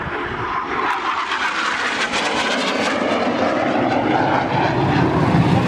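Aircraft roaring past at the Southport seaside airshow, approaching from the right just beyond the pier; a loud, steady engine roar fills the whole stretch and swells slightly toward the end, with no voices.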